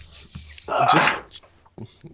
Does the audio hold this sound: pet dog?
yes